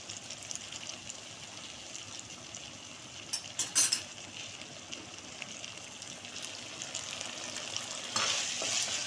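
Chicken sizzles quietly in a pan with chili sauce and soy sauce, a low continuous fry with a brief burst of stirring midway and a louder hiss near the end.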